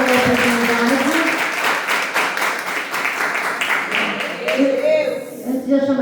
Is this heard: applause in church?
yes